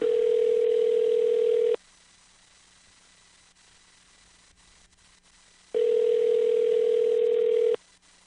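A steady telephone dial tone sounds for about two seconds, stops for roughly four seconds of quiet line hiss, then sounds again in a repeating pattern while a call is placed from a mobile.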